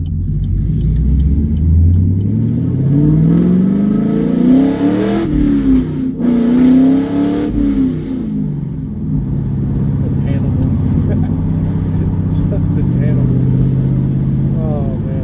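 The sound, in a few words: straight piped Chevrolet Camaro engine revving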